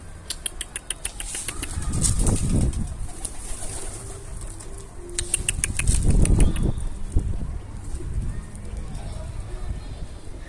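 Pigeons burst into flight in a small enclosure, with two loud flurries of wing flapping a few seconds apart, close by and mixed with people talking and some cooing.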